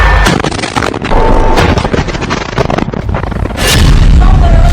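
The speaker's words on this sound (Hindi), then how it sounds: "फिर धमाका एक दूसरे कैमरे से रिकॉर्ड किया जाता है" A rocket explosion hitting a tank: a loud, booming blast roars with heavy rumbling and crackling debris, followed by a second powerful surge of noise.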